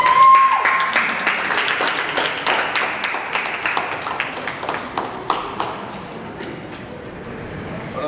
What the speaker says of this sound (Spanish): recibamos con un fuerte aplauso al general Lázaro Cárdenas